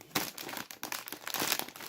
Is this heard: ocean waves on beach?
no